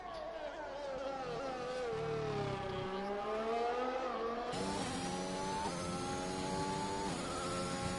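F1 car engine in F1 2021 at the Austria circuit, a loud continuous whine whose pitch falls and rises as the car downshifts into a twisty section, then climbs steadily again, with no talking.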